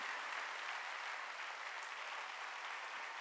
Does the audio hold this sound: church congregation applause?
yes